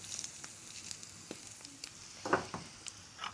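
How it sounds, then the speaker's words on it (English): Eggs frying in butter in a pan while being basted, a quiet sizzle with scattered pops and spoon clinks, close but faint. "we'll grab our butter and we'll baste one more time"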